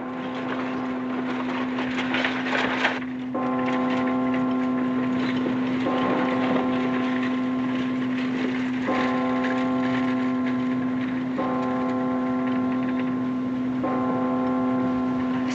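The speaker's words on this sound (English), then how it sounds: "Something peaceful about a church bell, isn't there" A church bell tolls in a town on a Sunday, repeated strikes about every three seconds ringing over a steady low drone, each stroke leaving a long humming decay.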